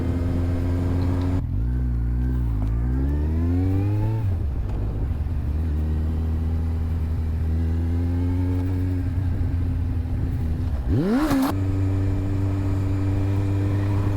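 Car engine heard from inside a vehicle driving around the TTÜ roundabout with a ride-hailing car braking nearby: a steady, loud motor drone whose pitch rises and falls as it accelerates and slows, with no voices.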